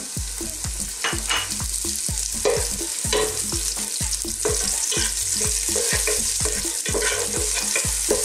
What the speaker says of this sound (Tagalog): First step natin, syempre, magsusote tayo ng garlic. Sasabay na rin natin yung ating onion.